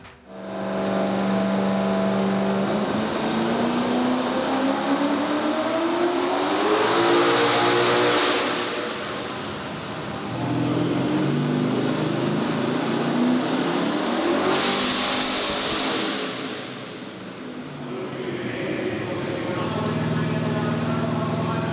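Twin-turbo 1500 horsepower LS-powered Commodore race cars at Summernats roar loudly through long sustained revs, with a rising turbo whine climbing over the deep engine note and a brief dip between pulls.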